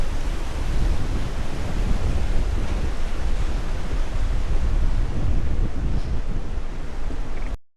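Meltwater from snow and glacier ice pours into the ocean at a far-northern coast, a loud, steady broadband roar of rushing water that holds unbroken for about seven seconds before cutting off.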